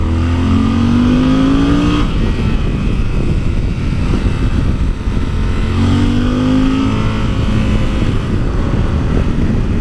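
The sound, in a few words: Yamaha Super Ténéré motorcycle riding off-road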